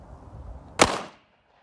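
A single sharp gunshot from a Kimber EVO SP pistol at a shooting range, loud and close, with a short decaying echo after a faint rustling lead-in.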